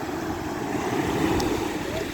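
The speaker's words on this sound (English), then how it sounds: "that tranquil sound there of the waves" Waves breaking and washing on Caister beach, a steady continuous surf roar with some wind noise on the microphone, no voices.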